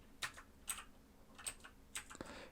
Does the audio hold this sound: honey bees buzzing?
no